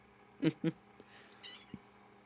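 Two short house-cat meows close by, one right after the other, then quiet room noise with a couple of faint soft sounds.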